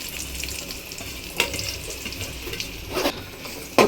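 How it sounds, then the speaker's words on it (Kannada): Two chopped onions frying in oil in a kadai for an okra gravy, a steady broadband sizzle with a few sharp crackles and stirring clatters near the end, close and without voices. "ಇದಕ್ಕೆ ಚೆನ್ನಾಗಿ ಫ್ರೈ ಆಗಲಿ ಈರುಳ್ಳಿ."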